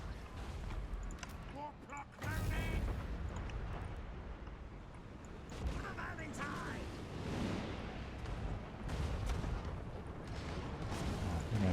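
Artillery fires in the strategy game Total War: Warhammer 2, with deep booming blasts and rumbling bursts in a battle, while a voice talks over much of it.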